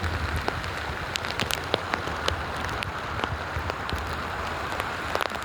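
Heavy rain pours down steadily outdoors, a dense close hiss of drops striking surfaces with scattered sharper splats throughout, no talk.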